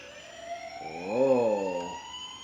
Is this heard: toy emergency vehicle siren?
yes